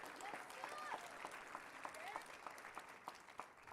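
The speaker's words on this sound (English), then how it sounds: "Clap it one time for Sheena and the whole crew." An audience at a young men's leadership conference clapping together, a dense, fairly distant patter of many hands that continues steadily throughout.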